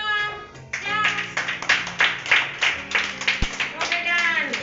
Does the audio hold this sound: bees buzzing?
no